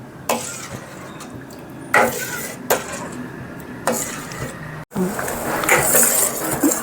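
A spoon scraping and clinking against a pot as carrot soup is stirred to stop it catching on the bottom, giving several sharp, close metallic knocks between quieter stirring sounds.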